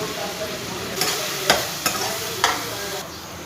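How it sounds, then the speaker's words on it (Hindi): Two medium chopped onions fry toward light brown for chicken and chickpea curry, a loud steady sizzle broken by a few sharp spatula knocks and stirs, no talking. "2 दरमियानी साइज़ की प्याज है ये, इसको मैंने चॉप कर लिया है। अब मैं इसको लाइट ब्राउन करूँगी।"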